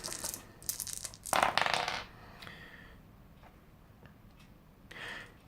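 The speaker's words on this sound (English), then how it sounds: "at point blank range he has an attack value of 5, which means he's going to be rolling 5 dice" Five dice rolled for an attack in the Xeno-Force tabletop game, giving a few quick rattling clatters close by in the first two seconds, then a quiet tail with one small tap near the end.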